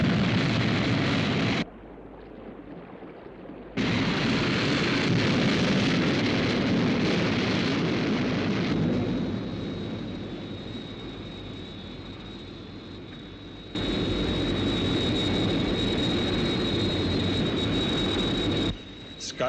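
The Sky One interceptor from a television series lifts off and flies on jet power, a loud roaring blast that cuts out briefly, returns, and fades to a thinner rushing whine before surging again.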